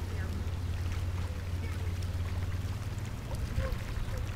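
Steady rushing floodwater draining into a storm drain through a large whirlpool fills the clip, a continuous low churning flow with a constant rumble underneath and no clear breaks.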